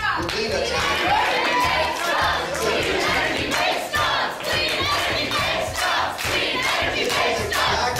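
Protesters crashing a press conference held by a climate-skeptic group in Copenhagen, a loud crowd shouting and chanting in rhythmic bursts with scattered clapping, close and continuous.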